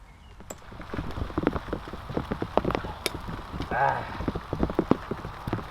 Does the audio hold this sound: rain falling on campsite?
yes